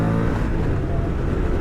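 2024 Moto Guzzi V100 Stelvio motorcycle engine while riding, a steady, loud, close drone with a throbbing low rumble that holds even throughout, no pauses or talk.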